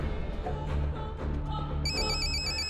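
Telephone ringing during an outgoing call, a repeated electronic ring tone over background music and room sound, moderately loud and continuing steadily with no talk over it.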